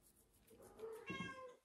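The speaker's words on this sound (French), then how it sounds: "je suis désolée si des fois il y a mon chat qui miaule" A pet cat meows once indoors, a drawn-out rising and falling call, fairly faint and close, with no talk.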